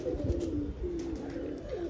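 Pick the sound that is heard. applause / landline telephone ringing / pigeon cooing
pigeon cooing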